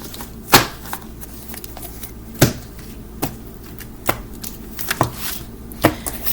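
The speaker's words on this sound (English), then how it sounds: "Energy going into the shuffle" Cards are shuffled and riffled in a series of sharp, close taps and flicks, irregularly spaced, with quiet pauses between and no talking.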